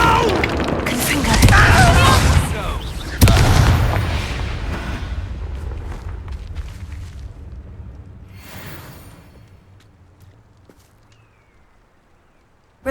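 The Confringo blasting spell in the video game Hogwarts Legacy: a loud, booming explosion with a second sharp blast, then rumbling debris slowly fading away, with a voice speaking at the start.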